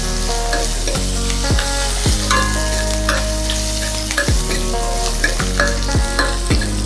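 Peeled garlic frying in hot oil in a pan, a loud, close, continuous sizzle with sharp rhythmic scrapes of a spoon stirring roughly every second, no voices.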